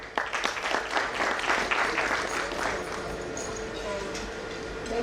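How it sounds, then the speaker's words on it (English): Crowd applause at a sports club's 100-year celebration evening, dense clapping strongest in the first two seconds, then thinning and continuing steadily under faint background chatter. "Let's please clap for them."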